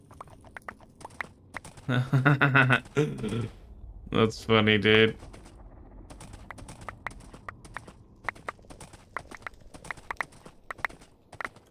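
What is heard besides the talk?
horse hooves clip-clop, video game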